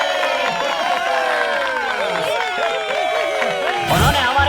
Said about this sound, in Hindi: सब लोग तालियां बजाइए।